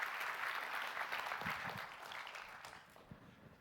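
Keynote audience applause at an AI summit plenary in a large hall, a dense wash of clapping that holds steady and slowly tapers off over a few seconds.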